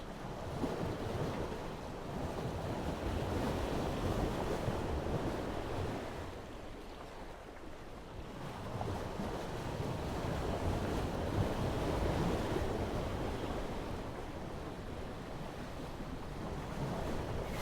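Large ocean waves over 3 metres heave around a boat on a rough sea crossing, a continuous broad roar of surf and wind buffeting the microphone that swells and eases in long surges, with no voices.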